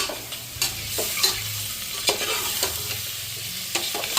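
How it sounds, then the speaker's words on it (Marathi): Boiled eggs sizzle in oil in a pressure cooker as they are sautéed with salt and chili, a steady close frying hiss broken by repeated scraping stirs of a spatula, with no talk. "आता हे उकडलेले आपले त्याला परतून घेते आणि कुकर मध्येच करणार आहे"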